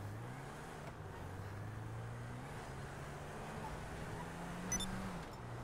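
A car in Grand Theft Auto 5 drives along with a steady low engine hum and road rumble, faint and continuous, with a brief brighter click near the end.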